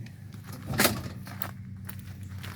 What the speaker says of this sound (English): Doors open up like a dream.